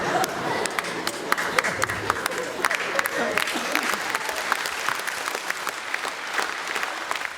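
Audience applause at a comedy concert fills the room as dense, steady clapping from a large crowd, continuous throughout with scattered louder claps.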